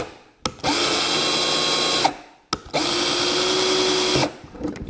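A Black & Decker LDX120 cordless drill runs in two bursts of about one and a half seconds each, a loud close whirring motor whine that starts and stops abruptly with a short pause between.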